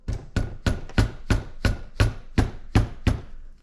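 A dead blow hammer taps a 12 millimeter socket on an extension down onto an engine part for a 4.8 build, about eleven steady, evenly spaced close knocks in a row with no talking.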